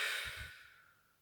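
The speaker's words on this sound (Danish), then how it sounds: "Vi trækker vejret dybt ind og puster ud." A deep breath drawn in and slowly let out during a therapeutic tapping exercise, a soft close airy exhale that fades gradually, heard alone without talk.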